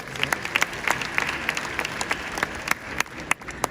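Conference audience at a bar association gathering in Enugu State applauds past presidents, a lively patter of many hands with distinct sharp individual claps standing out, close and fairly loud throughout.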